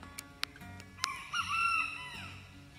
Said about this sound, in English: That was the little rooster Cogburn